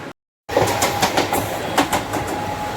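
A train rumbling along rail tracks with a steady clickety-clack and metallic rattling, loud and close, after a brief moment of silence at the start.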